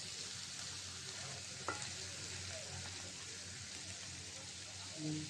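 Raw sweet pumpkin frying with panch phoron in a pan, a steady soft sizzle under occasional stirring scrapes, heard close and fairly quiet throughout.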